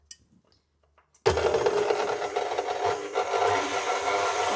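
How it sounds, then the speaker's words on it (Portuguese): After a second of near silence, an electric mixer starts abruptly and whirs continuously, loud and close, beating eggs for a chocolate chiffon batter. "Então eu vou ligar a batedeira."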